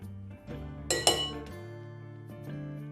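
A spoon clinks against a dish while stirring mustard powder paste, a few light metallic taps and scrapes over a quiet background.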